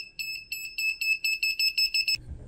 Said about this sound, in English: a buzzer that starts beeping faster and faster as the objects get too close